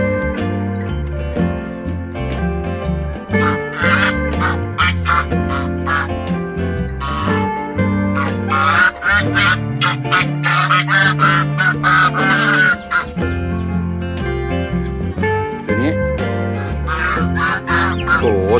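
Farmyard ducks quacking while they feed, with chickens crowding in to eat. The quacks come as loud, close, rapid honking bursts, repeated almost without pause over a busy background.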